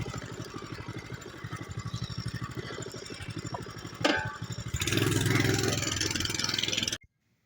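A motorcycle engine runs close by at a steady putter, then grows louder and rougher partway through before it suddenly cuts off.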